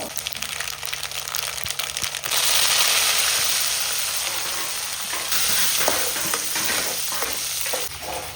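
Mustard seeds and curry leaves sizzle in hot oil as tempering for a mango pickle, a loud, steady frying hiss with scattered sharp pops and crackles from the bursting seeds, swelling midway and continuing throughout.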